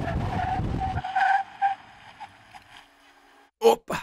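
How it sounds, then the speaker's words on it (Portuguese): A BMW 530e plug-in hybrid braking hard, its tires skidding with a loud squeal and road noise for about a second, then fading squeaks and short bursts of tire chirp near the end. "Agora vou pisar forte nos freios."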